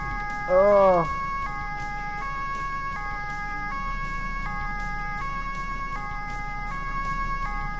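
Steady two-tone police siren in Autobahn Police Simulator, alternating evenly between high and low pitches throughout, with a short spoken voice near the start over the wailing.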